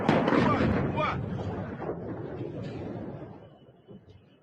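A large explosion in Tehran from news footage, a loud deep rumbling blast that rolls and slowly fades over several seconds.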